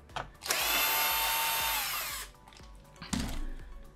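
A power driver whirs steadily for about two seconds unscrewing a screw from the grinder dome of a Nivona coffee machine, then stops; a short second burst of mechanical noise follows near the end.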